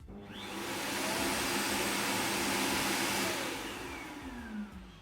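A loud, steady whooshing suction roar runs for about five seconds as a robot vacuum's base station empties its dustbin into a 2.5-liter sealed bag, then tapers off slightly.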